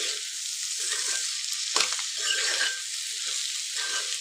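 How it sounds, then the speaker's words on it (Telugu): Grated carrot and beetroot frying in a pan with spices and coconut, a soft continuous sizzle broken by repeated stirring scrapes, one sharper clatter midway, no voices. "ఇట్లా ఒక 5 మినిట్స్ మనము ఫ్రై చేస్తూనే ఉండాలి, మాడిపోకుండా"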